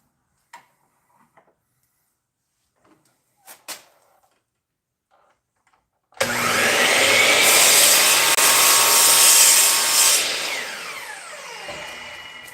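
Barrel tube trimmer cutting the end of a wooden pen blank, starting abruptly after near silence and a few faint clicks, then a loud, close, steady whirring scrape for about six seconds before spinning down.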